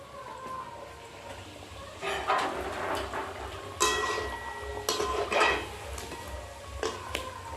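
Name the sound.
thekua being fried for Chhath puja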